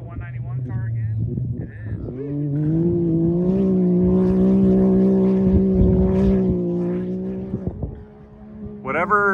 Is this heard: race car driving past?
yes